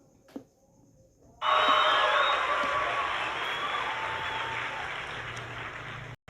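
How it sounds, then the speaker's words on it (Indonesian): An audience at a school event breaks into warm, sustained applause that starts suddenly after a quiet moment, fills the hall for several seconds, then cuts off. "Mari beri tepuk tangan yang meriah."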